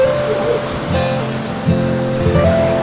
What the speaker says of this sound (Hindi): मेरे पीछे झरना है,